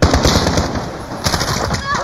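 Rapid gunfire bursts in a Call of Duty Warzone match, Modern Warfare, loud and dense with clustered shots and game effects throughout, with a voice briefly under it.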